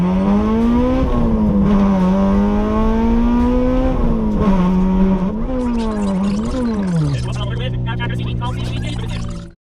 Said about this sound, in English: is a B18C swapped EG Civic hatchback, and today we're gonna have a lot of fun with it